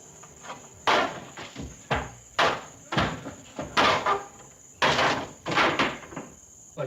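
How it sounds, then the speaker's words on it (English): Wooden window shutters are kicked in, a series of about ten sharp, fairly close thuds and cracks in an irregular rhythm, with a faint constant high hiss behind them. "We could kick these shutters in."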